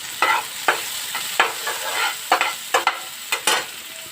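Chopped tomato frying in a pan on low gas for a desi egg curry, a soft sizzle broken by repeated scraping stirs, close up and with no talking.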